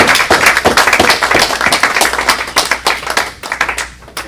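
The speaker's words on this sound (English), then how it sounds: "let's give one more round of applause" Dense audience applause at a 2018 forum presentation, many hands clapping steadily and loudly for about four seconds before thinning slightly at the end.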